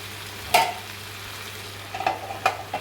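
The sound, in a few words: prawns frying with garlic and chilli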